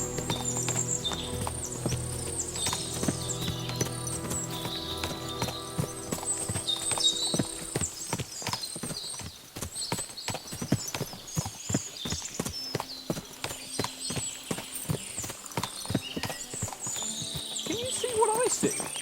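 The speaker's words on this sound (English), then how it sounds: "What a lot of horses!" Several horses clip-clop on hard ground in the medieval game Kingdom Come: Deliverance II, hooves thudding in a loose, overlapping rhythm with an occasional whinny, while voices talk and game music plays underneath.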